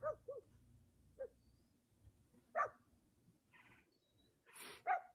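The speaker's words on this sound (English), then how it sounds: "Sounds like a big dog." A big dog barks somewhere off in the distance, a few sparse, separated woofs scattered across a quiet outdoor background, faint and far rather than close.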